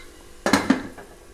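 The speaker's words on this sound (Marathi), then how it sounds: "आता मी कुकरचं झाकण ठेवते आणि ह्याला वाफ देते" A metal lid set onto a pressure cooker while prawn rice cooks, with two sharp close clanks in quick succession and a faint rattle after them, in a quiet kitchen.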